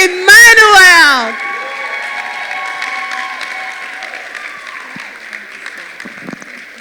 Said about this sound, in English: with a standing ovation and a heavy round of applause, make welcome with me Dr. Jola Grace Emmanuel